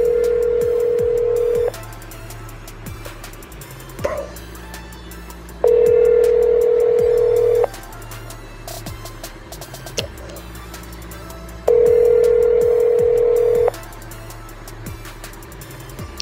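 Outgoing phone call ringing unanswered: three long, steady ringback tones repeat at even intervals with silent gaps between them, clear and close over a faint background hum.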